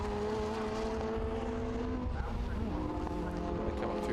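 Modified Ford race cars, including an Escort, a Focus and a Super Tune Puma, race at Snetterton, their engines droning and whining as they pass at varying pitch, with a commentator talking over the cars.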